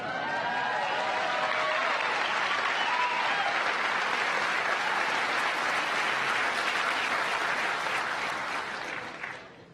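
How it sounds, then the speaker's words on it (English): A crowd of NASA family and friends applauds at an astronaut graduation ceremony, sustained even clapping for nearly ten seconds that fades at the end, moderately loud and alone. "applause and expressions of excitement are absolutely welcome and desired"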